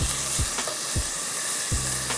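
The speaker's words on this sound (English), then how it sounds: "We're gonna go ahead and get started with sauteing some onion in our medium-sized skillet" Diced yellow onion sautés over medium heat in a medium-sized skillet, a steady sizzling hiss broken by a few dull scrapes and stirs, close and alone with no talk.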